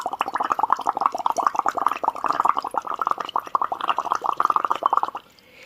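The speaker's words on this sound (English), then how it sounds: "Now we will blow air into this beaker." Air blown through a tube into a beaker of lime water produces continuous rapid bubbling and gurgling, close and fairly loud, lasting about five seconds before stopping abruptly.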